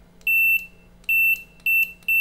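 Four loud, high electronic beeps of uneven length from a continuity tester checking a button, each a steady pure tone, separated by short quiet gaps.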